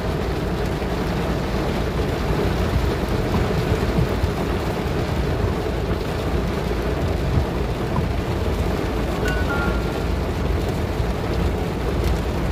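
Heavy rain pours down steadily in flooded Sylhet, a dense, continuous hiss of drops with faint rumbling underneath and no voices.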